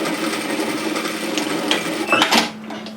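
A sewing machine stitches through an apron strap in a close, steady run that ends with a few handling clicks and a fading motor hum.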